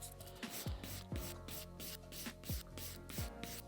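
Gentle back-and-forth rasping of a nail file on hard gel nails during at-home removal, a steady rubbing texture of repeated strokes, close and fairly quiet, with no voice.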